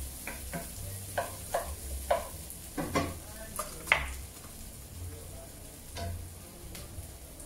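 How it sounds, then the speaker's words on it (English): Garlic, onions and celery sautéing in a pan: a soft, steady sizzle under a run of sharp spoon scrapes and taps against the pan, roughly a dozen knocks spread across the stretch, close by. "I'm just going to go ahead and saute them."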